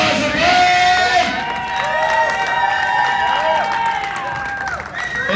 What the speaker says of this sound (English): Give him a round of applause for Brian!